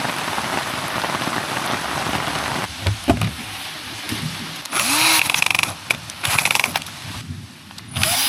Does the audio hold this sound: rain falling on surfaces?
yes